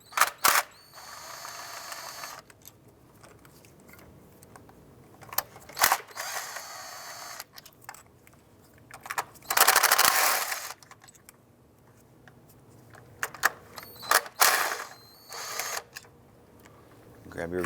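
A ratchet working loose the 8mm retainer nuts on the ignition coils of a 2001-2007 Ford Escape: short bursts of clicking spread across the clip, with pauses and handling noise between them, heard up close.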